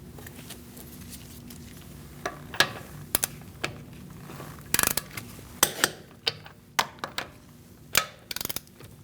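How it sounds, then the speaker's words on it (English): A torque wrench tightens the wheel nuts on a 2008–2014 Mercedes-Benz C300 in a star pattern, with quiet ratcheting and a run of sharp clicks close at hand and no talking. "We're going to torque our wheel to 96 foot-pounds. We're going to do that in a star-like pattern."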